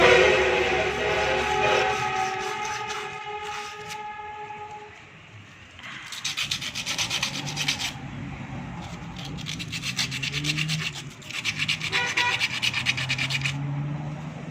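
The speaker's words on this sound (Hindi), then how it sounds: "इसको भी अच्छी तरह साफ़ कर लें। बाहर वाली जगह को थोड़ा सा रुमाल यूज़ करें।" A cloth wiped firmly across a generator part during a repair, heard as bursts of coarse rubbing strokes in two long spells, close and fairly loud, with no talk.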